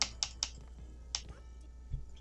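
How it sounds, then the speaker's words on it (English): A computer keyboard being mashed in the background, a few sharp clacking keystrokes in quick bursts followed by scattered fainter clicks. "mashing the keyboard in the background"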